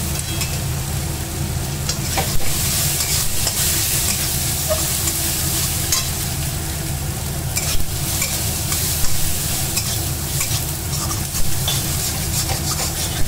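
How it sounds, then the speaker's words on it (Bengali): Spices with dried fenugreek leaves (kasuri methi) being stirred and fried in a pan, a steady sizzle under continuous scraping and stirring strokes with occasional louder clinks, close and alone without any talk. "এবার মা মশলাগুলো ভালো করে নেড়ে ছেড়ে নিচ্ছে।"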